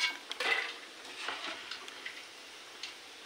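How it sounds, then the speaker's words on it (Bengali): Rice-flour chips deep-frying in hot oil, a soft steady sizzle with a few bubbling bursts near the start, moderately close and fairly quiet. "সেই কারণে বন্ধুরা আপনাদের সব রকম ভাজি করে দেখানো হচ্ছে"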